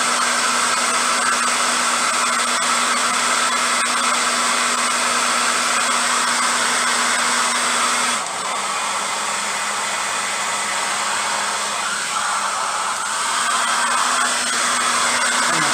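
Heat gun blowing on its high heat setting while working on a C4 Corvette: a loud, continuous hairdryer-like roar with a steady hum that shifts slightly midway.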